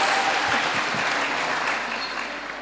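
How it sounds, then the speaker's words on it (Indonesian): Lively applause from a young audience at a live church youth gathering, steady dense clapping from a crowd that fills the room and tapers slightly toward the end. "boleh dong dikasih tepuk tangan yang lebih meriah"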